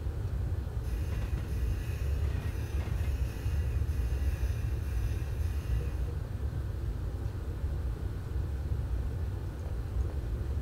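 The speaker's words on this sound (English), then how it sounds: "I think a few of the sounds of this train are ripped from the Class 221 Super Voyager" A Chinese high-speed train in the Train Simulator 2018 game runs on the Chengdu to Suining route. It gives off a steady, loud low rumble with a running hum, and a higher whine that fades out partway through.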